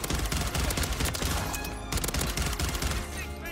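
Rapid burst-fire from a Rival 9 rifle in Modern Warfare 3 crackles in loud, clustered volleys that nearly fill the moment, with brief gaps between bursts.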